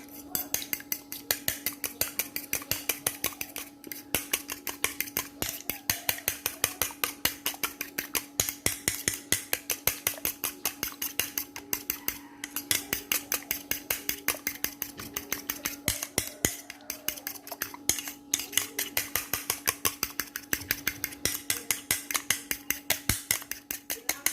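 Eggs with garlic are beaten in a bowl for a crispy Thai omelette: a fork or whisk clicks rapidly and steadily against the bowl, close and continuous, with a faint constant hum behind it.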